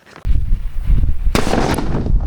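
Small atom bomb firecrackers explode outdoors as a country-made cracker test: a sharp close blast, then a second loud burst about a second later, each followed by rumbling crackle and debris noise.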